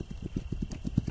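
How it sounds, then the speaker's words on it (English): Hooves of a wild mustang clop in a quick, fairly even series of soft thuds, close by and alone, with no voices over them. "I wonder why that horse is sitting there."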